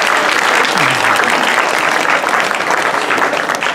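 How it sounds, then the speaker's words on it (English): A crowd at a Sri Lakshmi Narayan Kalyanam event gives a big round of applause, loud continuous clapping that stays even throughout, with a brief voice underneath. "They deserve a big round of applause."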